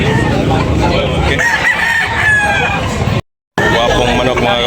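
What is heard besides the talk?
rooster crowing at a market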